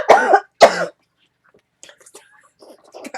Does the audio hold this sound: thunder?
no